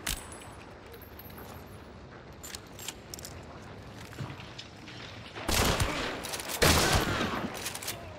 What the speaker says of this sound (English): Let me reload my machine gun.